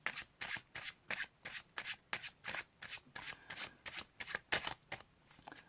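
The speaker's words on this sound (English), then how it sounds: "I've just done a false overhand shuffle, or rather a top retention overhand shuffle" Rapid false overhand shuffling of playing cards, a top retention shuffle, a steady run of crisp papery riffling bursts, close and clear with no voices.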